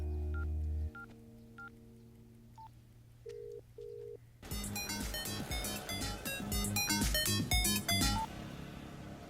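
Telephone keypad dialing tones beep in a short sequence of steady electronic notes, followed by a sudden, louder, dense burst of tonal sound that continues for several seconds.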